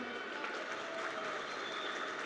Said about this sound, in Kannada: ಒಡೆರಿ ಚಪ್ಪಾಳೆ ನೋಡೋಣ